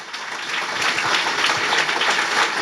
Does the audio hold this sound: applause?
yes